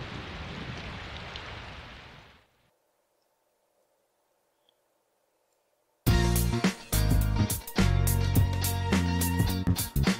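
Steady rain hisses in Persona 4 Golden for about two seconds and then cuts to near silence. Loud game music follows.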